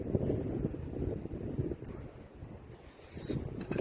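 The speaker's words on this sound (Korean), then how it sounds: "바람 바람 바람 소리" Gusty wind on a mountain buffeting the microphone in uneven low rumbling bursts, rising and falling over a few seconds.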